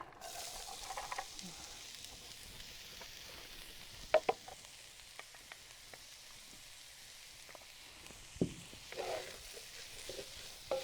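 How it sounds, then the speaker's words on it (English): Vegetables including onions and carrots fry in a couple tablespoons of oil in a hot pan for hibachi, a soft continuous sizzle with occasional sharp ticks and knocks of stirring. "we are just going to fry up our veggies"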